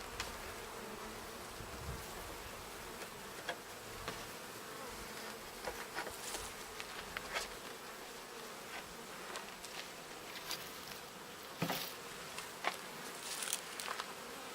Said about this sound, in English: this hive is completely full of bees, clear up on the lid.